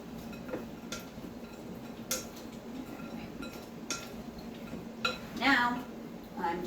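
Pasta salad is mixed in a bowl in a home kitchen, giving a few separate clinks and scrapes of a utensil against the bowl spread over several seconds, fairly close, with soft background hum.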